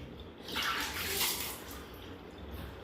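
Water splashes and pours in a short soft burst as a child is bathed at home, fading back to quiet room noise.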